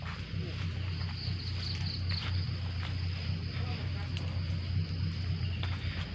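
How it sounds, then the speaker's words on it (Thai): A farm tractor carrying banana plants drives along a wet, muddy track, its engine making a continuous low rumble with scattered clatter above it. "เรารถไถเรามาใส่กล้วยนะครับ"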